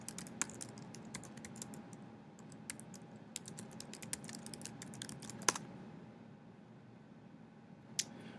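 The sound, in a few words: typing a sudo command on a computer keyboard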